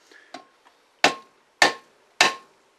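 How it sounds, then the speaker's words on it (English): A smooth-faced hammer raps a lead jig head flat against a metal vise, with a few light taps followed by three sharp, ringing metallic blows at a steady pace. "I just take a hammer with a smooth face on my vise"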